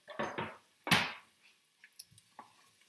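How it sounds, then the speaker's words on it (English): Garlic and onions stirred in a pan, a few short scraping and clattering strokes of a utensil against the pan followed by quieter small knocks, close and without talk. "Give that a stir."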